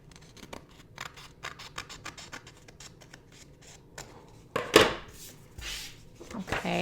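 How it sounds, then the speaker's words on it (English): Scissors trim excess paper while decorating a planner, giving a quick series of crisp snips and rustles, close and fairly quiet, ending with a louder crunch and paper handling. "take my scissors and cut the excess off"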